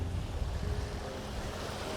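Ocean surf washes against a rocky shore with trees nearby, under gusty wind that buffets the microphone, forming a continuous rushing roar with low rumbling swells.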